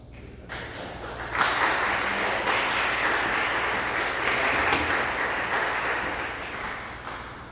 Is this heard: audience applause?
yes